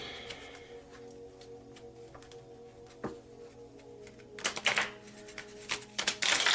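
Small tarot cards are riffled and shuffled in short bursts, crisp flutters and taps growing busier and louder toward the end, with no talking.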